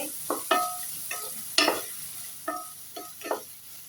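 Potato and bitter gourd fry with salt in a pan while a utensil stirs and scrapes in short, separate strokes over a light sizzle, close up, about seven strokes in a few seconds, with no speech.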